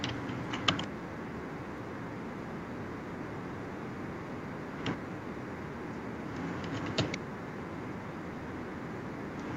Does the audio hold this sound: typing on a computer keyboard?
yes